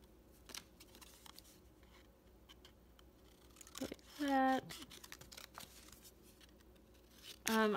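Scissors trim paper for a junk journal layout, with a few quiet snips and two louder, brief slicing cuts close up over a low room hum.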